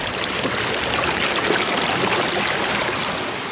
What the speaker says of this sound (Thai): อันนี้ก็เป็นน้ำตกบรรยากาศดี